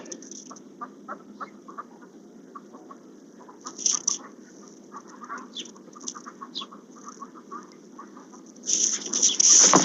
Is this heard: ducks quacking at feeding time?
yes